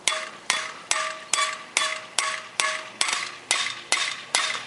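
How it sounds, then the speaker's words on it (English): A hammer peens a scythe blade in a steady, even rhythm of about ten sharp metallic ringing blows, close and clear with no talk. "each blow with the hammer, it kind of bounces the blade, and that bounce can advance the blade"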